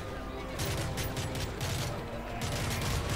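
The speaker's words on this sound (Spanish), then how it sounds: "tiros." Rapid bursts of gunfire in Call of Duty Modern Warfare 3, dense and continuous with mechanical clatter, heard up close and loud throughout.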